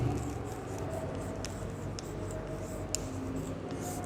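Pen or chalk scratches out words in a fifth-grade Hindi lesson, a soft continuous scraping with small taps, close and steady over low classroom room noise.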